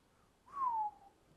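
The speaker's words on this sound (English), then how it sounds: "Man whistled" A man whistles once, a short clear falling note lasting under half a second against a quiet room background.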